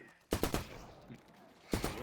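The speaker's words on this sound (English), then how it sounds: "Is that your gunfire?" Gunfire in a video game, with a quick burst of three or four sharp shots, a pause, then another short burst, distant-sounding and moderately loud.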